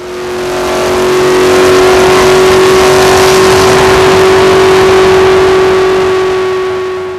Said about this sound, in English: it won't drown out the rumbling of the V8 beneath the hood